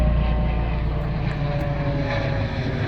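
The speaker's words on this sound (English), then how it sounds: "Helicopter." A helicopter flies overhead in a street setting, a steady loud engine and rotor drone that holds throughout.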